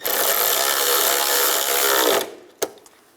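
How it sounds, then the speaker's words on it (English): Nuts being run down on the air deflector of a 1996-2002 Toyota 4Runner, a loud steady mechanical whir from a power tool for about two seconds, then stopping, followed by a sharp click. "Tighten the nuts down."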